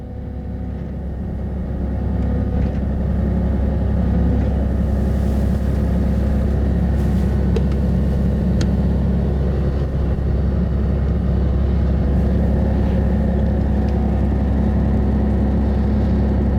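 A Pierce aerial platform fire truck engine holds at high idle, a loud, steady, close diesel rumble and whir that swells slightly early on and then stays constant throughout, with faint clicks and no speech.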